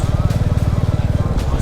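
A Royal Enfield Classic 350 motorcycle engine thumps close and loud in a quick, even rhythm of low pulses, ridden on the Malshej Ghat road.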